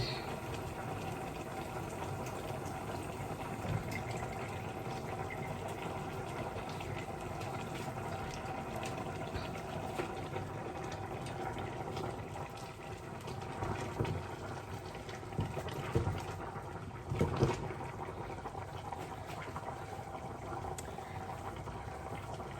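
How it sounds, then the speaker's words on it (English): Squash pieces are washed under running water, giving a steady faint splashing flow with occasional clatters and louder splashes near the end, heard alone. "I'm just going to wash them first, and then I'll just drop them into the stew."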